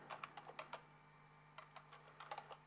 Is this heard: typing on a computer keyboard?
yes